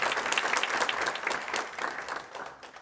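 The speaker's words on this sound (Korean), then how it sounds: "다시 한번 뜨거운 박수 부탁드립니다" A seminar audience in a convention hall claps warmly in a dense round of applause that gradually thins and softens toward the end.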